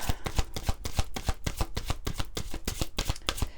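Oracle cards shuffled rapidly and close, a dense run of evenly spaced flicking slaps forming a steady rhythmic riffle, fairly loud and alone.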